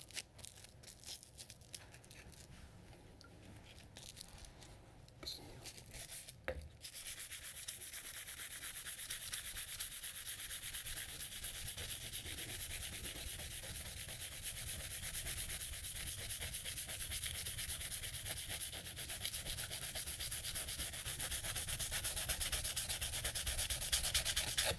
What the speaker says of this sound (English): Then I'm going to sharpen it.